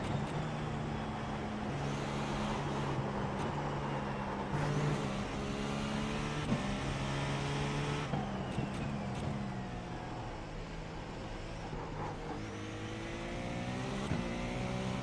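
A GTP race car in iRacing at Circuit de Ledenon, seven-speed and turbocharged, its engine droning steadily and shifting pitch as it works up and down through the gears, close and continuous with no talk.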